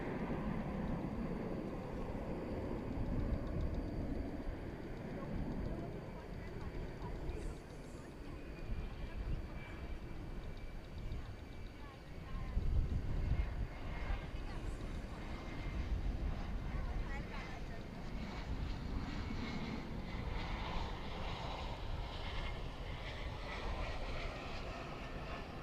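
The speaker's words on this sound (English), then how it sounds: "It's Airbus A321 going to San Diego, California." Airbus A321 jet bound for San Diego at Dallas Fort Worth Airport at night, a steady distant engine roar rumbling throughout with a swell midway, under a faint voice.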